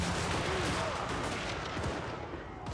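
Units firing in a Total War: Warhammer 3 siege battle, a loud, dense, continuous barrage of gunfire and artillery booms with a voice speaking over it.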